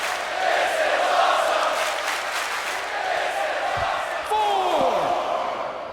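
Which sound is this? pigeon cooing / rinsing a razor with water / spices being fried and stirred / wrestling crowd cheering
wrestling crowd cheering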